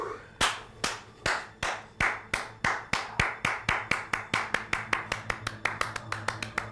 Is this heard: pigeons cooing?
no